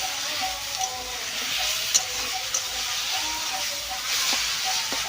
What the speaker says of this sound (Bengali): দেখো আমার শাকটা প্রায় ভাজা হয়ে এসেছে।